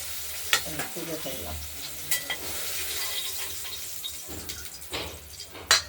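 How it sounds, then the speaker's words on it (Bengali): Rohu fish pieces fry in a pan for a rohu curry with potato, broccoli and tomato. A steady sizzle runs throughout, broken by a few sharp clicks and clatters from stirring or turning the fish. "মাছগুলো ভাজা হতে থাকুক।"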